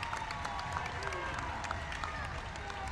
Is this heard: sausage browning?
no